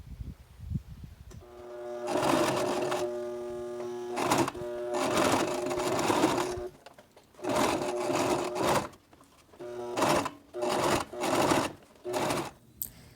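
Sewing machine stitching an apron, running in several bursts of steady mechanical whirring separated by short pauses, close and loud with no talking.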